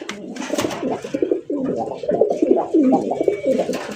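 Fancy domestic pigeons coo close by in repeated soft, throaty bursts that overlap and run almost continuously, with a few faint chirps mixed in.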